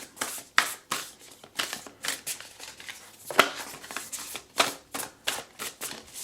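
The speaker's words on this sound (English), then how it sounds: "We're going to shuffle." Oracle cards riffled and shuffled by hand in a quiet room, a run of crisp, snapping bursts at an uneven rhythm, close and fairly loud with no voices.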